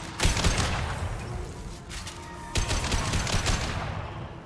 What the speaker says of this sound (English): He's doing a shotgun.